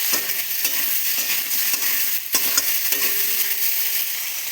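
Cut eggplant and potato sizzling in hot oil while being stirred, a dense continuous crackle punctuated by spatula scrapes and clinks, close and steady, no voices.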